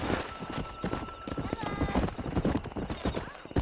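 Horse hooves clip-clopping in the Red Dead video game, a brisk steady rhythm of close hoofbeats with a whinny, under a man's spoken calls.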